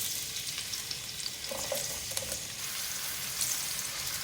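Two medium sliced onions frying in oil in a pan, a constant crackling sizzle with a few brief stirring scrapes near the middle, close and moderate in level.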